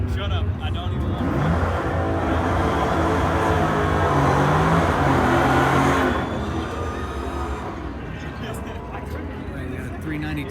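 Dodge muscle cars, a 392 and a Hellcat, rumble and rev loudly at a drag strip track day, a broad sustained engine roar that swells and then eases off near the end with some nearby chatter mixed in.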